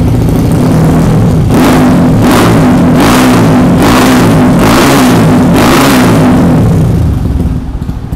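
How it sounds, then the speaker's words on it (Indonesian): A loud bored-out Kawasaki KLX motorcycle engine revs hard in repeated bursts, roaring up and dropping back several times before idling down at the end. "dari suaranya juga pasti lebih galakan motor yang udah diborap seperti ini"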